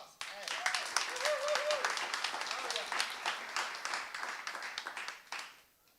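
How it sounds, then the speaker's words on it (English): A round of applause from an audience at a talk on creativity and artificial intelligence, many hands clapping continuously with a voice speaking briefly at the start, fading away near the end. "Let's give them a round of applause."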